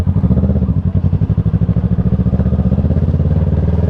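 A motorcycle engine chugs steadily and close by with a rapid, even pulsing while the bike brakes and its front suspension dives, with no talk over it.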